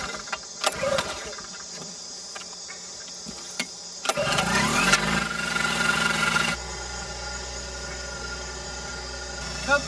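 A portable generator engine runs steadily at night outdoors, a continuous mid-pitched hum with a low drone that shifts partway through, punctuated by a few brief knocks and clatters nearby.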